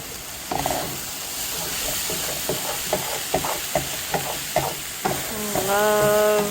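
A spatula stirs and scrapes stuck-on bits off the bottom of a hot frying pan of plant-based food, giving a run of short rhythmic scraping strokes over a steady close sizzle, with a brief squeaky scrape near the end.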